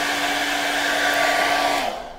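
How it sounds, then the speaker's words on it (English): A hair blow dryer runs steadily at close range for about two seconds, drying wet paint on a board, with a constant whirring hum that drops and cuts off near the end. "I'll try to hit the blow dryer."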